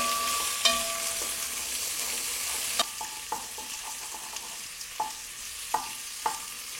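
Onions sweat in a pan used to brown a beef shank, giving a steady close sizzle broken by a handful of sharp spoon or spatula knocks, with no talking.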